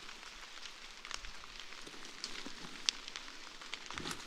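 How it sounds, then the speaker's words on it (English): Steady broadband patter of rain on a campsite tarp in the Algoma Country woods, with scattered louder drops ticking through a continuous soft hiss, fairly quiet and without voices. "So we're scurrying back to hopefully beat this rain."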